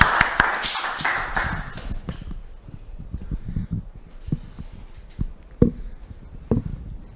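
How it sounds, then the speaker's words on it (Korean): Audience applause at a high school alumni association award ceremony honoring an alumnus artist: a burst of dense clapping that thins out into scattered individual claps and taps over several seconds, with no voices. "박수 부탁드립니다"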